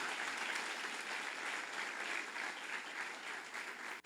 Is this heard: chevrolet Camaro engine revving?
no